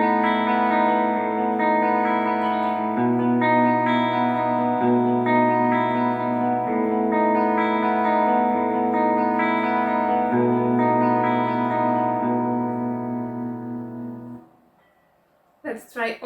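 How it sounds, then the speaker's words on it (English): An ENYA Nova Go Sonic smart electric guitar plays on its clean tone: sustained, ringing chords that change every few seconds and stay loud and steady, then fade to near silence with a brief knock at the end. "So let's start with the clean."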